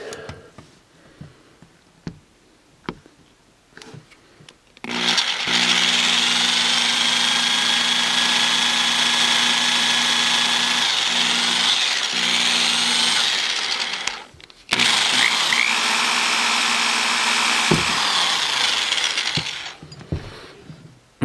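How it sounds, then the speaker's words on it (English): A regular corded hand drill bores a hole in the case of a vintage Tandy Radio Shack toy computer truck, with a loud steady whine for about ten seconds, a brief stop, then another burst, with clicks and handling noise before and after. "So I'm just using a regular hand drill here, corded one."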